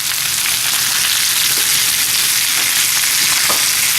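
Patty pan squash and zucchini frying in olive oil in a pan, a loud, continuous close-up sizzle with faint stirring knocks, no talk.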